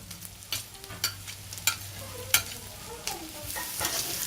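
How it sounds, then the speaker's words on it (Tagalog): Pork and kinchay sautéing in pork oil in a pan, a steady sizzle punctuated by several sharp scraping stirs of a utensil, close and clear with no talking. "Once you've noticed that the pork changed color quite a bit, add the kinchay and then saute again."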